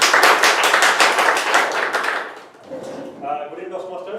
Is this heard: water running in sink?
no